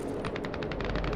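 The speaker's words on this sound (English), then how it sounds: "you can hear some distant gunshots" Distant gunshots in the survival shooter game Fargone, a rapid string of muffled cracks like automatic fire, steady and faint behind an ambient background.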